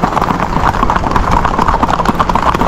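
Horse hooves clip-clopping on a beach in Rincón at sunset, a loud, close and steady stream of dense thuds with no gaps.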